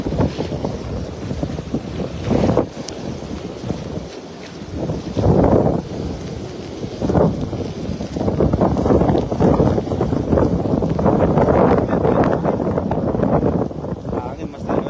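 Heavy wind buffets the microphone in steady, roaring gusts while out fishing, with engine-like rumble and occasional voices underneath.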